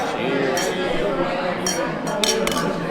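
Wine glasses clink together in a toast at a Florentine-style wine tasting. Several light, bright chinks are set against a busy room of chatter and clatter.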